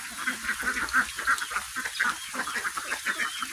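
Ducks quack repeatedly in a steady, busy chorus, fairly close and loud, with calls overlapping in quick succession around egg-laying ducks kept in a pen.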